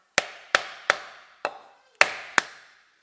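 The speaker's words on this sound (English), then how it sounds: "Just a piece of 3x2 and a hammer and tap her in." A hammer strikes a block of 3x2 timber to tap a part home during a Citroën Berlingo/Peugeot Partner axle repair. Six sharp, loud wooden knocks ring out alone at uneven intervals.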